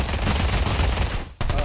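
P90 submachine gun fire in the VR shooter Pavlov, a dense rapid burst of loud, close shots that cuts off abruptly and then resumes briefly.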